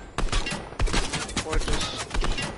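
Rapid bursts of DMR rifle fire in the Fortnite Zero Build battle royale, several sharp shots in quick succession at close range, with players talking over the gunfire.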